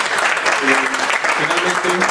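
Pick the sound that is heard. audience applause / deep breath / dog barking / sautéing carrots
audience applause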